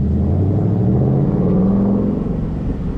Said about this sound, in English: Listen to this exhaust note.